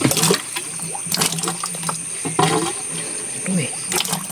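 Water flows and splashes near a drum in an outdoor setting, a steady rushing wash with brief louder surges, while people talk over it.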